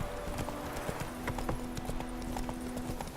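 Roach's hooves clop steadily at a quick pace in The Witcher 3 video game, close and distinct over a faint game music drone, with no talk.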